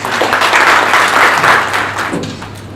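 Audience applause at a public launch event in Lusaka, Zambia, greeting the keynote speaker: dense, steady clapping from a crowd of attendees, loud and close, holding for most of the clip before thinning slightly at the end.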